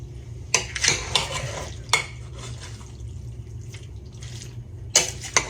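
A spoon stirs sharp cheese melting into a creamy milk and cream cheese sauce for mac and cheese in a metal pot, giving close, occasional scraping clinks against the pot over a low simmering background.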